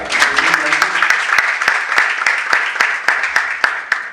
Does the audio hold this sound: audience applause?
yes